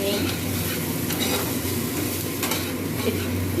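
Chowmein with potato stir-fries in a hot pan, giving a loud, steady sizzle with the scrape and clink of stirring throughout, close up.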